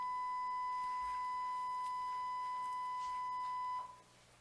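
A steady electronic alarm beeps in a continuous tone through a board meeting room, holding for about four seconds before cutting off, with faint murmuring in the background.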